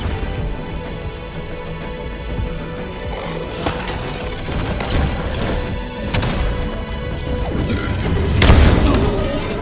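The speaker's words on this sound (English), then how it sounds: "Alright, plasma grenades." Plasma grenades detonate in the video game Halo Infinite amid dense game noise, with several booming, crashing impacts and a heavy, loud blast near the end, and no talking.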